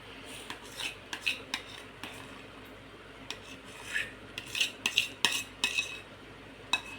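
A utensil scrapes and taps as sweet-sour raw mango kairichi vadi mixture goes from the pan into a ghee-greased tray. The short rasping clinks come in uneven clusters, close by and fairly quiet.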